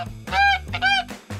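Goose honks in two or three loud, nasal calls, each rising and falling, with a low droning hum beneath.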